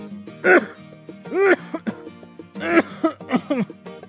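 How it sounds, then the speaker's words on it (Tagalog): A thin young man coughs repeatedly at close range, a series of harsh throaty bursts spaced across the moment, some clustered in quick pairs, with no talking in between. "nakakabahala pa yung ubo mo"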